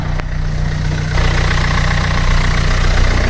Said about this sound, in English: Auxiliary belt, I can hear the auxiliary belt making a clatter.